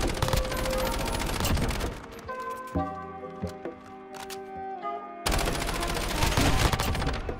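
Rapid bursts of automatic gunfire from a RAM-7 rifle in Call of Duty: Modern Warfare multiplayer: two long, dense volleys with a quieter stretch of tonal game sounds and scattered shots between them.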